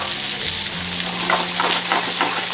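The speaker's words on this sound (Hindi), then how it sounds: "2 मिनट फ्राई कर लेंगे प्याज को" Big chunks of onion with green chilli fry in a pan, a loud, steady sizzle filling the whole stretch with a little stirring texture and no talking.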